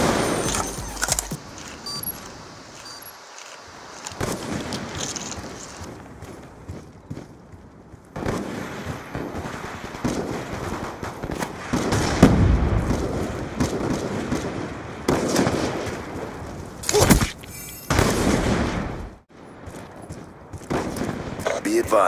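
Explosive charges go off in a video game during combat, with sharp bursts and gunfire-like blasts scattered over a busy background of shooting and voices.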